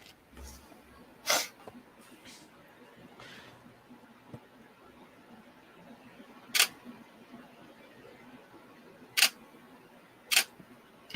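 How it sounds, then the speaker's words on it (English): Camera shutter clicks: four sharp, isolated clicks spread across several seconds, moderately loud over a quiet room background. "We could hear by the shutter clicks."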